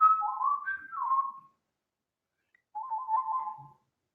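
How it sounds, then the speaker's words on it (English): Someone whistles a short tune that slides and warbles for about a second and a half, goes silent, then whistles a second short wavering phrase, close and clear with no other sound. "Try it now. Whistle."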